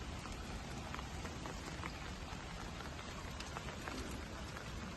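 Steady rain falls continuously over a jasmine garden, a dense even hiss with scattered drop impacts on surfaces, close and unbroken for the whole stretch, with no voices.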